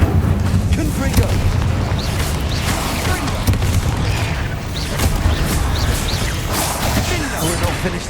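A Confringo explosive spell is cast in Hogwarts Legacy, bringing dense rumbling booms and crashes over a constant wash of game noise with no clear pauses.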